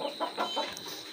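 Aseel roosters cluck softly in a quick run of short calls while being fed cooked rice, faint and close, with a steady high hiss in the background.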